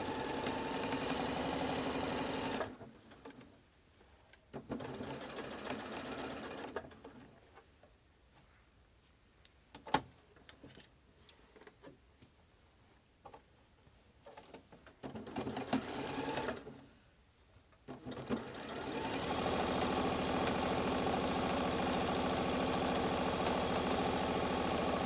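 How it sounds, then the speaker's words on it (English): A sewing machine stitches a seam on a surgical cap, running in steady close bursts that stop and start, with quiet pauses and light handling noises in between. "Laying down so I can sew to that seam."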